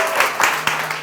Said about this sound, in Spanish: Vamos a recibirla con aplauso y vamos a ver de qué se trata.